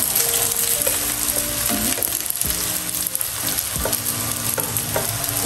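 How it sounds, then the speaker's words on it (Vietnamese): Dumplings fry in a pan with a steady, loud sizzle and crackle that runs throughout, alone with no voices. "Chiên nó vàng đi rồi xong mình pha."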